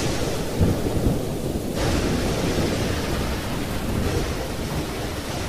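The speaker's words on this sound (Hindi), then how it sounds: "बहुत तेज आंधी तूफान शुरू हो जाता है, साथ में जोरदार बारिश भी।" Heavy rain pours down steadily with deep rumbling thunder rolling underneath, a dense continuous roar with no voices.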